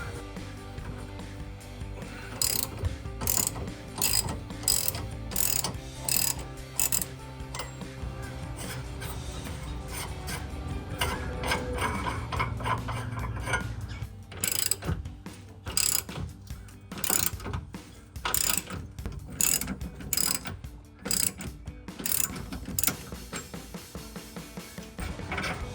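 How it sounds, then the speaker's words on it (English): A ratchet wrench with a 24mm deep socket backs off large nuts on a 2021-2023 Ford F-150 truck bed, giving rapid clicking bursts between pauses, with some metallic rubbing throughout. "This is a 24mm. I do have a deep dish socket that I'll be using."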